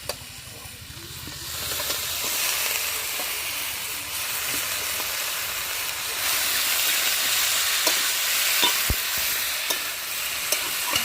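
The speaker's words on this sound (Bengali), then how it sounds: "শাকগুলো কেটে রেখেছিলাম ওগুলো আমি এখন দিয়ে দিচ্ছি ভালো করে আলুর সঙ্গে একসঙ্গে আমি কষিয়ে নেব" Chopped greens and potatoes being sautéed together in a pan, a loud steady hiss and sizzle with occasional stirring clicks, close up.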